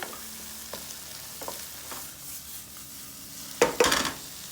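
Food stirred and tossed in a hot pan on high heat, a steady close sizzle broken by soft scraping stirs and a louder clatter of pan and utensil near the end, with no talk.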